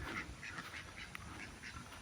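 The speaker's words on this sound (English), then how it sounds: "Quick look at the ducks that we've got." Ducks on a small farm in Bali quack repeatedly in short bursts, faint and somewhat distant, with no talking.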